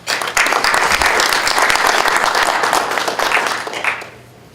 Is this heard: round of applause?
yes